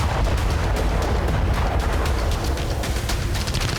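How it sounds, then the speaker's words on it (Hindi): Bombs strike and destroy a building in Kherson, giving a loud, dense series of booming blasts and sharp cracks that follow one another with no quiet gaps. "ये खेरसॉन का वीडियो है जहां यूक्रेन ने बम दागकर एक इमारत तबाह कर दी"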